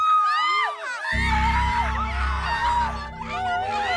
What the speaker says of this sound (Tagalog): makarinig kami ng malakas na hiyaw mula sa labas